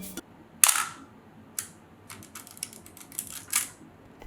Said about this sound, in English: the crispiest shutter I've ever heard in my life